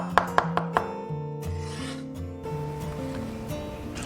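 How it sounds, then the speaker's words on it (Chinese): A knife crushes and chops shallots on a cutting board: four sharp knocks in quick succession, followed by softer board sounds over a steady low tonal background hum, close and fairly loud. "准备一些红葱头，先拍碎，切成小粒。"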